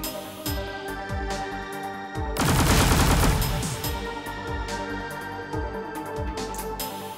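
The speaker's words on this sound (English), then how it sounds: "Let's full automatic fire." Full-auto weapon fire in the sci-fi card game Deep Sky Derelicts: a dense, loud burst of rapid shots for about a second amid game music, with scattered lighter impacts before and after.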